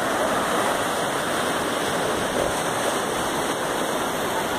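Ocean surf at Praia do Estaleirinho beach, a continuous loud wash of breaking waves with steady broadband roar and no distinct individual crashes.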